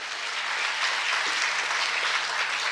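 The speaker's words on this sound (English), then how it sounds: "I want all of you to give a big round of applause for them too." A hall audience at a women entrepreneurs' meeting in Mangaluru applauds, a dense, steady clapping that holds at full strength throughout.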